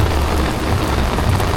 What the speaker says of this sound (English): A whole heap of rain in the town as we walk towards Sam Sharp Square.